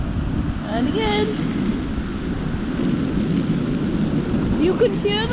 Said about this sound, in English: You can hear the noise of all the pebbles being washed back out to sea